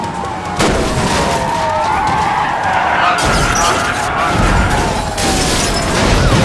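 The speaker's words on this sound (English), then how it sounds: "The vehicle carves a wide, smoking arc across the freeway" Police cruiser ramming a suspect car on a freeway, the car skidding and smoking in a wide arc, with a loud, continuous crash-and-skid roar, some sharp impacts, and tire squeal sweeping throughout.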